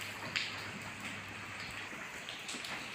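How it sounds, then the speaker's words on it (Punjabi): Steady rain falls throughout, a soft continuous patter with a brief sharper drip early on, fairly distant and without voices. "ਇਹ ਜਿਹੜਾ ਹੁਣ ਮੀਂਹ ਪੈ ਰਿਹਾ ਹੈਗਾ"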